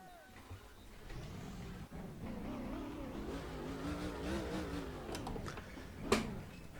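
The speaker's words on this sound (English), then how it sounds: "Drivers, start your engines!" Several race car engines fire up and rev together in NASCAR Racing 2003, a steady dense roar that builds and holds, with a sharper burst near the end and a voice talking over it.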